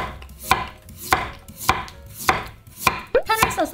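A knife julienning radish on a cutting board, sharp crisp chops in a steady rhythm about every half second, then a quicker flurry of cuts at the end, close and clear with no talk.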